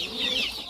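Hens in a rural Bangladeshi yard give a short burst of close, moderately loud clucking with no talk over it.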